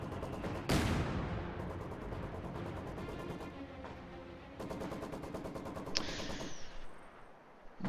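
Rapid machine-gun bursts and heavy artillery blasts fill a competitive World War II strategy game match, a loud crash opening a sustained, dense barrage with a sharp explosion near the end.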